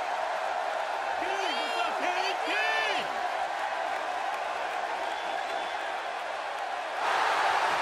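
A capacity arena crowd in the WWE 2K wrestling game keeps up a steady cheering roar under a commentator's talk, swelling slightly near the end.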